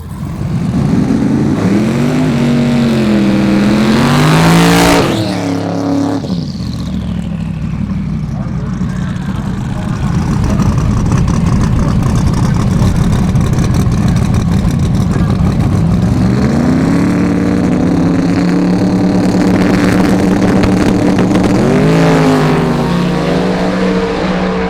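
Drag racing cars run at the Sick Summer drag strip, loud engine roar rising and sweeping across the whole stretch, with a sharp launch surge around the middle and further engine runs later over constant crowd and track noise, voices faintly underneath.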